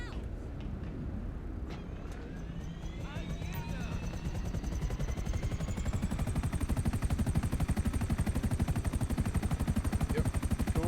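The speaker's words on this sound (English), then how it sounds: "Look, there's the helicopter for some reason." A helicopter in a sandbox video game drones steadily with a fast rotor chop that grows louder and denser partway through, sitting up close with a rising turbine whine.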